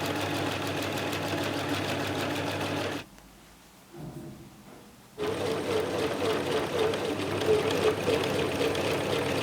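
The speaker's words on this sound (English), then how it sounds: "Before I do any of that, I need to zigzag all the raw edges." A sewing machine zigzag-stitches raw fabric edges on a dress, a fast steady mechanical whirr that stops for about two seconds in the middle, then resumes at the same pace, close and clear.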